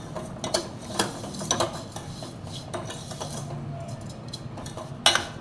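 Fine vermicelli stirred and roasted in ghee in a pan: light scraping and clinks of a spoon against metal in an irregular rhythm, close and alone, with a sharper knock near the end.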